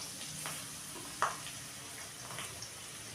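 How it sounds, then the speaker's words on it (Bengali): Chicken fries gently in a pan for an Andhra-style dry chicken dish, a soft, steady sizzle with a brief clink or stir in the middle, fairly quiet and without talk. "এটাকে আমি একটু ভেজে নিচ্ছি"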